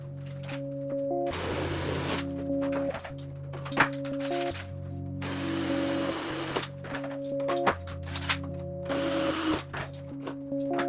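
A drill match-drills through the top skin of a RANS S-21 aircraft into the spar, firing in several loud, whining bursts that alternate with quieter pauses and small knocks, all close by and with no talking.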